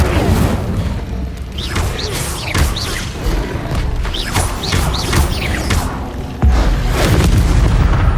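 Incendio fire spell cast repeatedly in Hogwarts Legacy, a string of loud booming, crashing bursts with a heavy low rumble running through about eight seconds.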